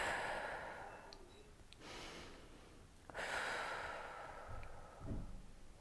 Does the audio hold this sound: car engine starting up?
no